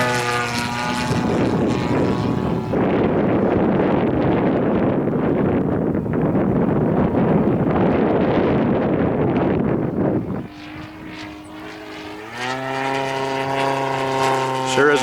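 A Bates Hellcat model airplane engine runs at full power with a loud, steady propeller roar and gusting wind noise, then drops away near the end as the engine note settles into a lower hum.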